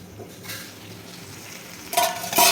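Bitter gourd and onion curry gets stirred in a pan on the stove, soft scraping and clinking of a spoon against the pan over a faint sizzle, ending in a couple of louder metallic knocks.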